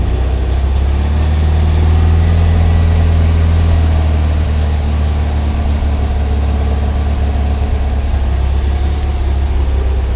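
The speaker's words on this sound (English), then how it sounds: "With an air-cooled engine, it's always good to let them warm up." An air-cooled engine fitted with dual Kadron carburetors idles steadily as it warms up, a loud, constant low rumble with no talking.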